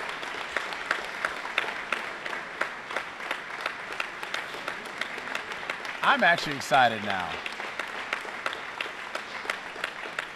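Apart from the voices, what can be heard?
wrestling gym crowd applauding after a pin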